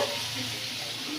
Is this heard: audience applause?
no